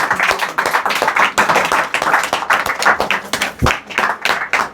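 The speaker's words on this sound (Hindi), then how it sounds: "ताली बजाइए, आप सब ताली बजाइए" A church congregation at a prayer hall in Dewas claps hands together, loud dense rhythmic clapping close by that keeps a steady beat with brief dips between bursts.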